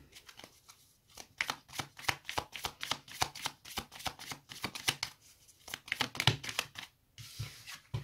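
Tarot cards shuffled and handled by hand, a long run of crisp, close riffling snaps and slaps in quick rhythmic bursts, pausing briefly before resuming, with no talk.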